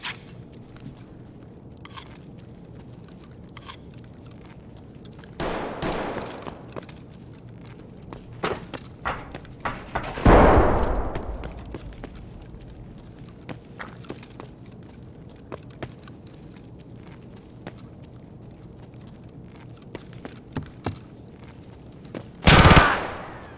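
Gunfire in the shooter game Escape From Tarkov: scattered bursts and single shots of varying distance over a constant background bed, with a loud close shot near the end.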